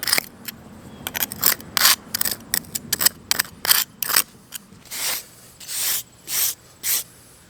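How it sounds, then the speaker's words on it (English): A wire brush scrubs out a crack, with crisp, close, hissing scratches in quick irregular strokes that turn into longer, evenly spaced rasps toward the end. "I'm taking a wire brush and just kind of cleaning that out."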